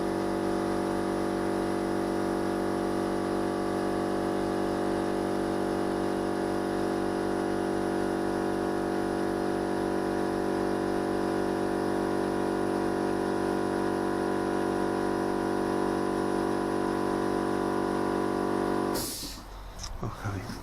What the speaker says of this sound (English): Wait for the compressor